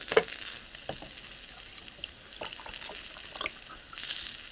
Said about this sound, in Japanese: 米中のフランクを鉄板焼きで。